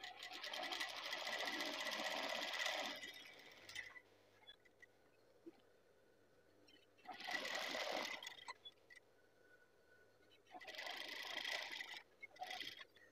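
A sewing machine stitches the collar of a hand-drawn Pekalongan batik shirt in three bursts, each a few seconds of fast, steady whirring rattle separated by quiet pauses.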